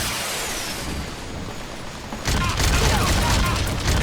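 Metal Gear Solid 5 combat with gunfire and explosions, a steady rumbling mix that swells sharply halfway through into louder booming bursts, with a voice talking over it.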